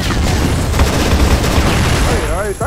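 Gunfire in a lagging online shooter match, with dense loud shot bursts and booms throughout, a voice talking over the action near the end.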